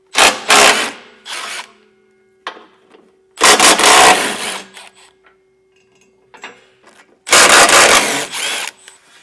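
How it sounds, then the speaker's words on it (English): A power tool whirs in three loud bursts, each a couple of seconds long, as it removes bumper brace bolts on a 2020 Audi Q5, with quiet clinks and handling noise between them. "Now we'll come through and remove all of our bumper brace bolts."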